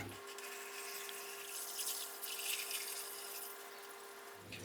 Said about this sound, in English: And then just gently pour our water in.